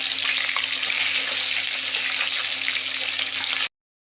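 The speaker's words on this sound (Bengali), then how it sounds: "তেল গরম হয়ে গেছে, এক একে মাছগুলো সব ভেজে নেব।" Bata and tilapia fish coated in turmeric and salt fry in hot oil, giving a loud, dense, continuous sizzle close up with a faint steady hum beneath, cutting off abruptly near the end.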